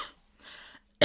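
A single sharp cough bursts out at the end after quiet throat sounds and breathing, close and brief.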